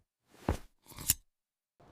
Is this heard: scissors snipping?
yes